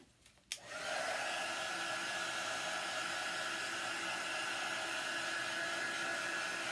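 A hair dryer switches on with a click and then blows steadily and loudly, a continuous airy whoosh with a faint whine, used to dry a chalked paper craft for a decorative gift box.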